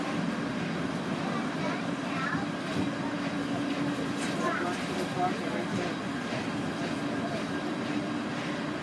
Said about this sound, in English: the noise you can hear behind you now is traffic on the Bronx Zoo Parkway